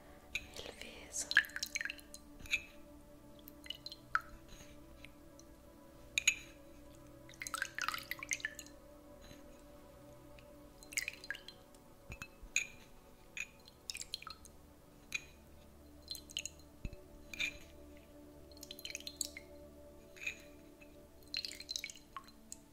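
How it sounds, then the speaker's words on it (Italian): Water drips and small wet touches during a face cleansing in a men's spa ASMR session, soft close sporadic taps and trickles over a quiet steady hum, with faint whispering. "con dell'acqua andrò a pulirle"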